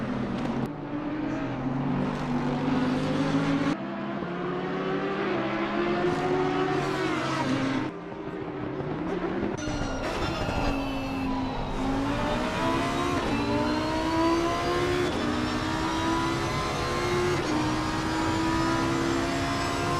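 Onboard engine note of a GT race car at Bathurst in a sim-racing endurance event, loud and close, with repeated gear-change revs rising and dropping and another car's engine faintly audible nearby, with no talking.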